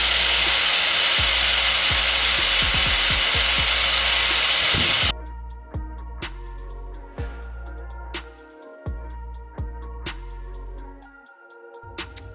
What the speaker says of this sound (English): I'm gonna get the flap disc and just grind down the rubber, get rid of it